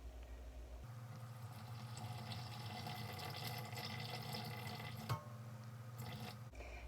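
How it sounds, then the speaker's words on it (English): Room-temperature water poured steadily into a bowl resting on a kitchen scale while making ciabatta dough, a continuous close trickle and splash lasting several seconds with a brief clink near the end. "now I'm going to add 213 grams of water that's about room temperature"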